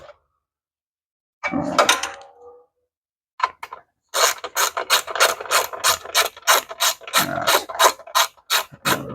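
A ratchet wrench clicks rapidly in a steady run of short bursts while a Kohler ignition coil module is being fitted to a small engine; a rustle of handling comes first, then the close, loud clicking with no talk.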